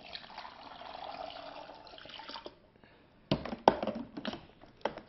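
Water poured from a measuring cup into the chamber of a Cuisinart 2-in-1 baby food maker and bottle warmer, a steady close pour that stops midway, followed by a few clattering knocks and small splashes.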